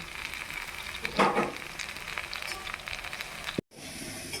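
Mustard seeds, panch phoron, a bay leaf, chili and cumin sizzle in hot oil in a wok for begun bharta, a steady close crackle with a brief louder burst near the start and a short cutoff near the end.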